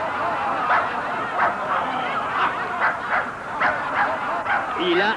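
Someone imitates a dog with a string of regular, yappy barks, about one per half second, fairly close and loud.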